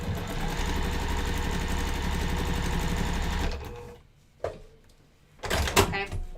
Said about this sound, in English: And then I'm going to sew those 2 together.